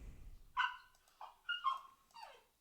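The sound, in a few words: dog whimpering in its crate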